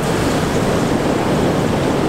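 Floodwater rushes past a bridge in the Tankwa during a flood, a loud, constant broadband roar close to the microphone, with some wind buffeting and no one speaking.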